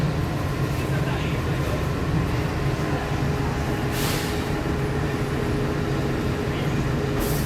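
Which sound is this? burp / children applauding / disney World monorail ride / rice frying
disney World monorail ride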